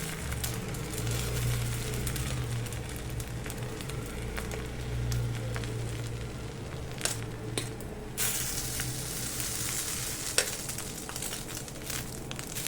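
Egg and bread omelette frying in oil in a pan at home, a steady close sizzle running throughout with a low hum beneath and a few faint scraping clicks, no voices.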